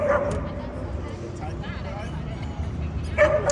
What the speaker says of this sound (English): I've been watching that dog run around the street for years.